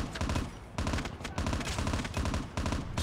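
M16 rifle bursts in Call of Duty Mobile gameplay, with rapid loud volleys of game gunfire in several close bursts separated by short gaps.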